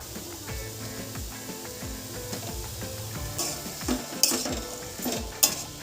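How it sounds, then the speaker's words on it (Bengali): Kakrol (spiny gourd) fries in fish oil while being stirred, giving a soft sizzle under irregular scraping strokes, with a few sharper clicks and hissing spurts near the end. "এবার এর মধ্যে মাছের তেলটা দিয়ে দিচ্ছি।"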